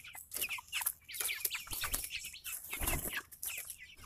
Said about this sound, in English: Day 48, Red Ranger broilers.